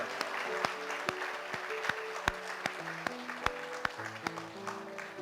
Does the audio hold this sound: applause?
yes